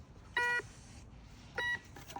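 Two short electronic beeps from a metal detector swept around a metal pool, each a clear steady tone about a second apart, fairly quiet against faint background noise.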